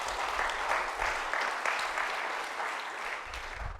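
A church congregation claps loudly and steadily during a worship service, a full, even burst of many hands lasting several seconds.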